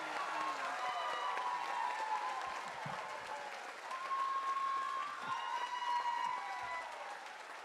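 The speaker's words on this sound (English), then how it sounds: "I think that would be a great time for a round of applause for our graduates." Sustained crowd applause for graduates at a community college commencement ceremony, steady and dense throughout with faint cheers and whistles woven in.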